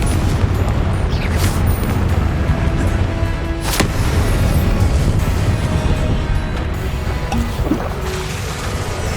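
A Confringo blasting spell bursting in Hogwarts Legacy, a booming explosion with a sharp crack near the middle, set against continuous loud rumbling noise with no voices.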